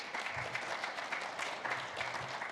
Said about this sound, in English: Jade, a little applause, please.